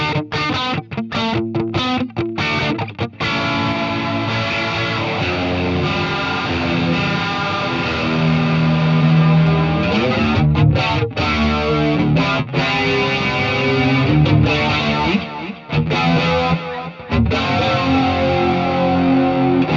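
Electric guitar played through a Fender tube amp with distortion and effects in the loop after the distortion: loud, saturated riffing with choppy muted stabs at first, then sustained, chorus-tinged chords and held notes ringing on alone.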